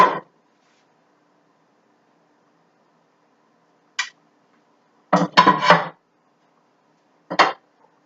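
Plating swordfish: a few short, sharp clatters of dishes and cutlery, one at the start, a single clink, a busier burst of clinks and scrapes, then one more, separated by near silence.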